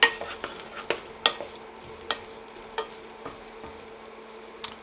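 Steak and ale pie stew ingredients frying in a pan, a gentle sizzle under repeated sharp clinks and scrapes of a spoon stirring at an irregular pace, close and moderately loud, with no voice.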